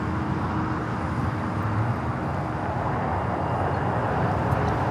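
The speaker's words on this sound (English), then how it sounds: "Ita coming in from Rome, the A330 Neo." An ITA Airways Airbus A330neo airliner arriving from Rome at LAX, its steady, loud broadband jet roar filling the whole stretch without a break.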